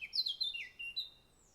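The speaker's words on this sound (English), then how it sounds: "It's a European bee-eater, one of the most colorful birds of Europe." European bee-eater calling from sandy slopes where it nests, a few clear liquid chirping notes in quick succession, fairly close and alone.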